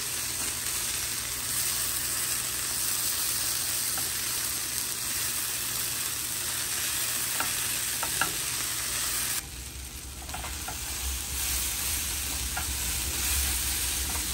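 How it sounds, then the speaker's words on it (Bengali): Long beans frying with oil in a pan while being stirred now and then: a steady, close hiss of sizzling with soft scraping, briefly dipping midway before returning at full strength. "তো মাঝে মধ্যে আমি নেড়ে দিচ্ছি এইভাবে।"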